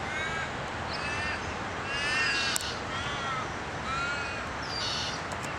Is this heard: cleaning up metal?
no